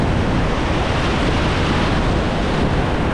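Whitewater on the Chattooga River rushes past a waterfall during a rafting trip, a loud, constant roar of churning water with no breaks, heard up close.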